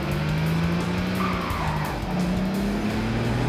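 A Nissan 350Z in Gran Turismo 5 braking hard on grass, with a steady engine drone and a sustained tire skid that holds at high volume for several seconds with no speech.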